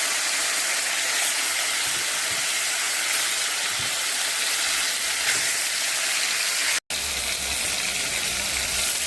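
Fish pieces laid one by one into hot oil with cumin seeds in a wok, giving a loud, steady broadband sizzle and hiss that fills the whole stretch, briefly cut off once.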